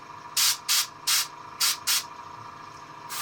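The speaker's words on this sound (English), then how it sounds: "Spray the underside of that little knob." Spray paint is hissing onto a small metal-painted miniature in five short, sharp bursts, close and loud, each lasting a fraction of a second over a low steady background hum, with no talking.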